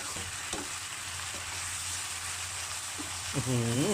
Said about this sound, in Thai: จากนั้นก็เอาหมึกกุ้งหอยใส่ลงไป แล้วก็ผัดให้พอเข้ากับส่วนผสม